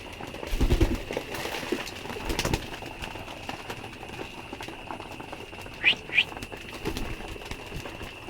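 Pet pigeons at home, with soft low cooing and rustling that are mostly faint and scattered, a couple of louder thumps early on, and two sharp chirps near the end.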